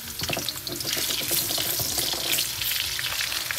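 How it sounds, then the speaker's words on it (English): Onions sautéing in a quarter cup of olive oil, a loud, busy close sizzle with rapid crackling pops throughout. "We are going to saute this for just a minute to release the sweetness from the onions."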